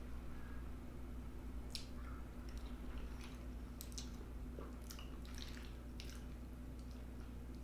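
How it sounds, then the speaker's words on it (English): Someone eats mac and cheese with a spoon, making faint, close, soft wet squishes and chewing sounds along with a few light metallic clicks scattered over a quiet, humming room. "Now let's try the mac and cheese and see how that is."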